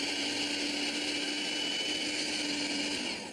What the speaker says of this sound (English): put the lid in the blender and switch it on